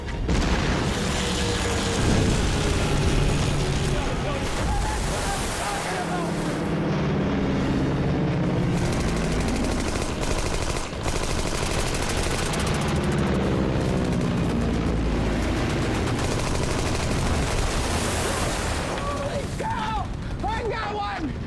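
Gunfire in a battle scene from an action war movie: dense, continuous rumbling booms and bursts of shots over a thick mechanical and explosive soundtrack, loud and unbroken from start to finish.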